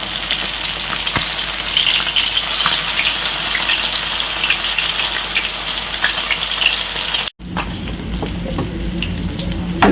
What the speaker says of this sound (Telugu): ఇలా చక్కగా రెండు వైపులా ఫ్రై అయినాయి చూడండి